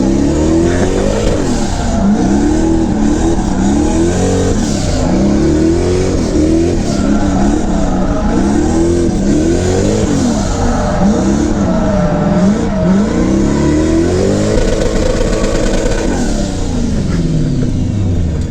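A drift car's engine revs hard and continuously, rising and falling in repeated sweeping pitch swings as it's pushed through corners, loud and close with no speech.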